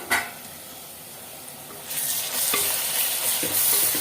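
Onions sautéing in a clay pot, a quiet sizzle that grows louder and brighter halfway through with stirring scrapes and bubbling, close by.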